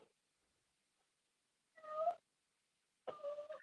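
A pet cat meows loudly twice in a quiet room, two drawn-out cries a little over a second apart.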